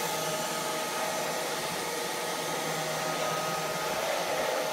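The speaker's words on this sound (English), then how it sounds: "The vacuum cleaner." A Neato Botvac robot vacuum cleaner runs with a loud, steady whirring hum that holds constant and close for the whole stretch.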